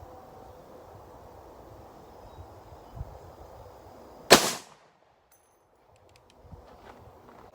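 A single loud, sharp gunshot from an 82-year-old Remington 81 rifle, fired outdoors after a stretch of quiet background, followed by a short decay and then near silence.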